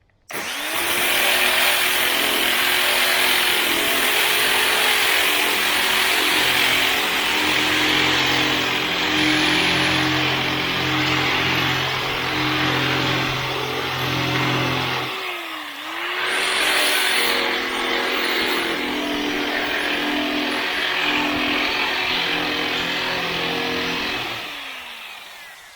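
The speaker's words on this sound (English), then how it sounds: "With the DA sander with 80 grit" A DA sander fitted with an 80-grit disc grinds paint off the body of a 1978 Chevy Nova with a loud, steady whine. The motor pauses briefly midway and then starts up again.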